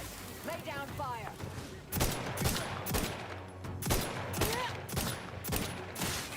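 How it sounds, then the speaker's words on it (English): Gunfire in the video game The Outer Worlds 2, shooting through bushes: a run of sharp, loud bursts about once a second, with a voice talking between them. "Just shooting through bushes."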